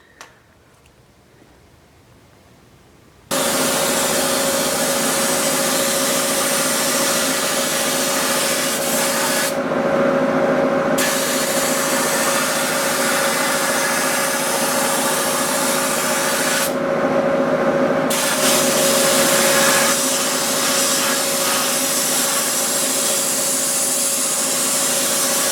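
Compressor-powered abrasive blasting strips paint to bare metal on a Monocar body, a loud continuous hissing roar that starts abruptly after a quiet moment and runs steadily with two brief dips in its sharp upper edge.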